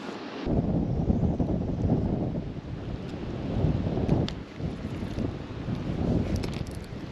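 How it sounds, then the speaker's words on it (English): Strong wind blows at a pond during trout fishing, roaring and gusting in loud buffeting surges against the microphone, with no other sounds standing out. "That wind has picked up."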